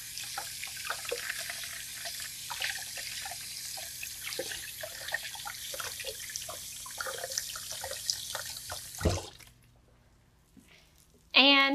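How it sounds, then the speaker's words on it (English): Hands rinsed under a running kitchen tap while cooking: a steady close hiss of flowing water with splashing for about nine seconds, then it stops and a voice begins at the end. "I'm gonna rinse my hands really quick."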